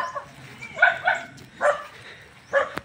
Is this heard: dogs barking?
yes